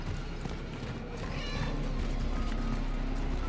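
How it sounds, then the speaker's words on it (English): A cat in the video game Cronos: The New Dawn meows over a busy game soundscape, a short plaintive call rising above steady background noise. "There's the cat, let's follow it."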